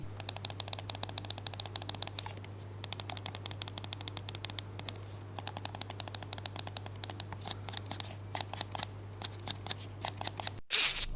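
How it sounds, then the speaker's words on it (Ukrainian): Mouse buttons on a Razer DeathAdder V4 Pro click sharply and repeatedly in a fast, uneven rhythm, crisp and close, with a steady low hum underneath and a louder handling noise at the end. "Клік короткий, чіткий, без пре і постревела."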